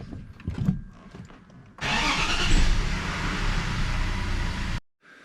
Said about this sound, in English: So we'll start it, let it run for maybe 3 to 4 minutes,